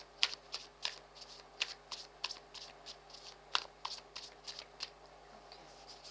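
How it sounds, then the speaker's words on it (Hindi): Tarot cards being shuffled by hand nearby, a quiet run of crisp riffling flicks and soft slaps in an uneven rhythm, with short pauses between bursts and no voices. "ऐसे शफल करूँगी।"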